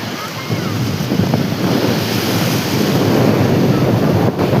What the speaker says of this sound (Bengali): এই হচ্ছে মন্দারমণির আজকের সমুদ্রের